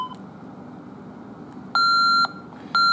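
A Honeywell Vista 20P alarm keypad gives two loud, steady electronic acknowledgement beeps, each about half a second long, over a quiet room hum.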